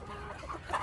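Hens in a coop on a cold day: a brief, faint run of soft clucks, low and muffled, lasting under a second.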